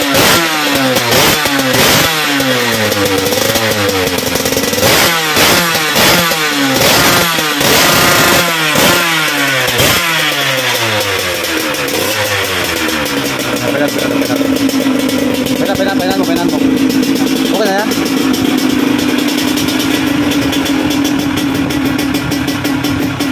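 A 125cc motorcycle engine revs hard in repeated loud bursts, then settles into a steady high drone, close by throughout.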